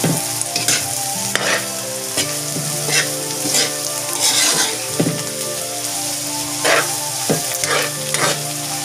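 Sliced bitter gourd (ampalaya) is stirred in a hot pan, the spoon scraping and clacking irregularly over a steady, loud sizzle of frying, with no talking.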